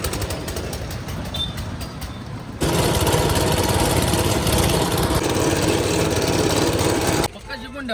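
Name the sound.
tractor engine running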